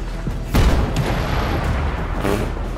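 A tank mine goes off in the video game Just Cause 3 with one sudden heavy boom, followed by a rumbling, crackling tail of debris and battle noise.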